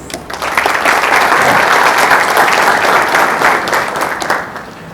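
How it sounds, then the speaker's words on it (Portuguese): An audience at a live accountants' event applauds a speaker, a dense, steady burst of clapping from many hands that lasts several seconds and then begins to fade. "Uma salva de palmas para Manuel Carlos Torres."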